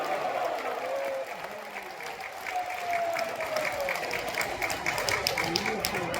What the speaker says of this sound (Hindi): सबाई एक बार जोरे हाथ ताली दिए ओनाके अभिनंदन जानान, स्वागत जानान, जोरे हाथ ताली